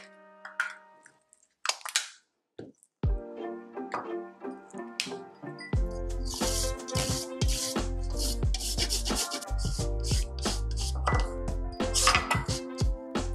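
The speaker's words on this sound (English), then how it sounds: "I'm gonna go ahead and grind up 1 ounce of dark chocolate." Grinding one ounce of dark chocolate in a kitchen for a crock-pot chili, a loud rough rattling grind that runs continuously for several seconds after a few scattered clinks and taps.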